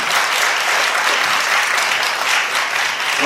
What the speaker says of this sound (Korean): 우리 중학생 경연팀들에게 힘찬 박수 한번 주시기 바라겠습니다.